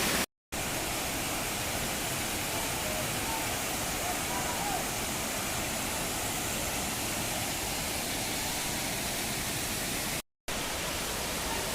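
Benki Falls in the rainy season roars as a steady, dense wash of falling water, loud and unbroken, with two brief cuts to silence.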